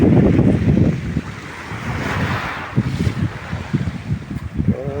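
Gusty wind buffets the microphone by the shore, with surf rumbling underneath; the roar swells and eases in uneven bursts.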